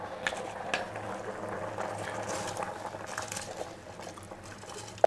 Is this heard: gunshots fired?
no